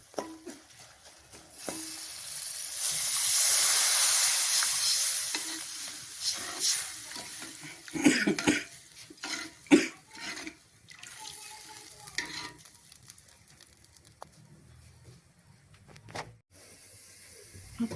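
Water hits a hot pan while lake fish is being cooked, setting off a loud hiss that swells and fades, followed by scattered crackles and sputtering pops.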